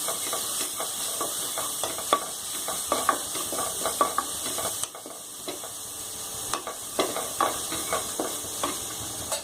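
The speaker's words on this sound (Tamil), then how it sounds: "மட்டன் மசாலா, சில்லி பவுடர் போட்டு நல்லா ஃப்ரை பண்ணி விடுங்க." Mutton pieces frying in a pan with masala and chilli powder, a steady close hiss and sizzle broken by frequent scraping stir strokes and a brief lull midway.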